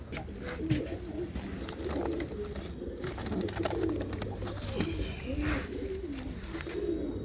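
Pigeons coo softly in repeated throaty bursts, close by, over a low background hum.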